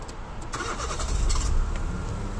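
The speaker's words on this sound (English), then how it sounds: "So I'm going to turn the car on" A 2002 Nissan Micra K11 1.0 automatic starts up: a short starter crank gives way to a low, steady idle that swells slightly and then settles, heard up close with no talking.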